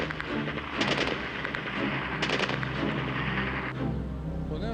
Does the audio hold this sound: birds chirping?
no